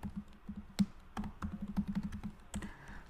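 Typing on a computer keyboard, with quiet, close clicks in short irregular runs and a brief pause between bursts, with no talking.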